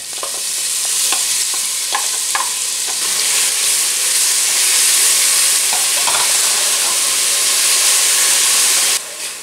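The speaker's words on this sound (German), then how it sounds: "Jetzt gebe ich die Zwiebeln mit hinein und karamellisiere die leicht." Onions caramelizing with dissolved sugar in a pan, a loud steady sizzle and hiss with occasional stirring clinks, running continuously before cutting off near the end.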